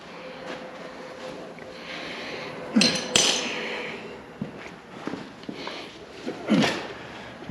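A few sharp metallic hammer blows drive a fork tool into a suspension joint on a 58-year-old car, ringing out at irregular intervals, with clinks and shuffling in between.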